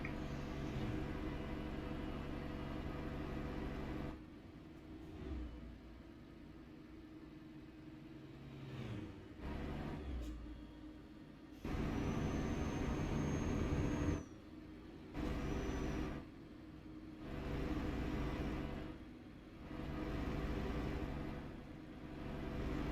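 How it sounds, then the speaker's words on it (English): A truck's engine in a trucking video game rumbles low and steady, swelling and dropping with gear changes and brief pauses, with a hiss like air brakes and no talk over it. "That's the engine."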